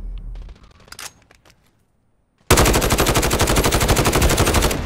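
Rapid automatic gunfire from the video game Modern Warfare erupts suddenly after a few scattered clicks and a quiet pause, then continues as a loud, dense burst to the end.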